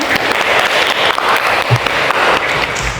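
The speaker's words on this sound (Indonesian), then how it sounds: "Tepuk tangan" Students in a classroom setting give a steady round of clapping, a continuous, fairly loud patter lasting throughout with no clear talk.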